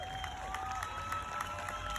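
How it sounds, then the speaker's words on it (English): A crowd at a Parliament Square rally applauds and cheers after a speech. Clapping and crowd noise carry at a moderate distance, with a faint whistle-like tone at the start. "Give her a round of applause, please, people."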